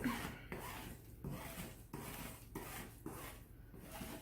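Scraping moisture residue off a table, rhythmic rasping strokes repeated about every half second, close and moderately loud, with no talking.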